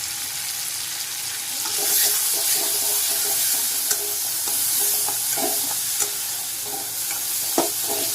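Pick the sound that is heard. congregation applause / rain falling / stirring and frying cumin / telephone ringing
stirring and frying cumin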